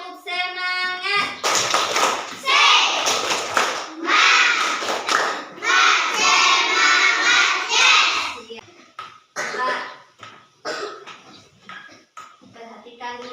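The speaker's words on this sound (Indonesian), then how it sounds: "Coba semuanya dulu tepuk semangat." Schoolchildren in a classroom do a rhythmic spirit clap together, bursts of loud group clapping mixed with young voices chanting, followed by scattered taps and children talking.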